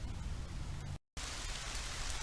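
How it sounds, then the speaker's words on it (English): Rain falling outdoors at an antique bottle dig, a dense steady patter of drops on the ground, broken by a brief moment of silence before the hiss resumes, close and fairly loud with no talking. "It's starting to rain."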